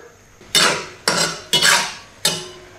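A spatula scrapes and stirs through a wok of braised winter melon with smashed garlic as the sauce reduces over high heat. Four loud, close strokes come at an even rhythm, each fading quickly, with no voices.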